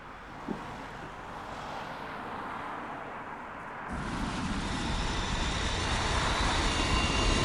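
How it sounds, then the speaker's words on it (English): A drone flies above a demolition site in Blackpool, its steady motor hum joined partway through by a louder, wider rush of rotor and wind noise that holds to the end. "we're able to take the drone up into the skies once more"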